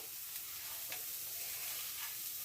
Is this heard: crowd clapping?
no